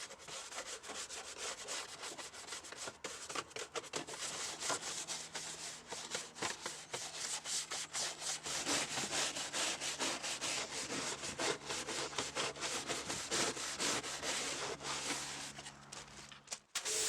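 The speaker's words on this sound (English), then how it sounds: "I then gave them a good scrub to remove that dirt" A brush scrubbing dirt from the wheel arches of a Vauxhall Grandland X after all-purpose cleaner is sprayed on, close, vigorous and rhythmic, with rapid back-and-forth strokes continuing throughout.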